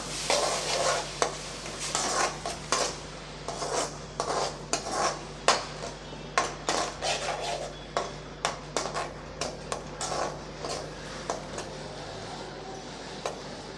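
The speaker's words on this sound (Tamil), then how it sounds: "இப்போ அதையும் சேர்த்துக்கலாம் நல்லா வதக்கி விட்டுறலாம்" A spoon scrapes and stirs tomato paste repeatedly in a pan over a soft sizzle, with rhythmic metallic clinks every second or so.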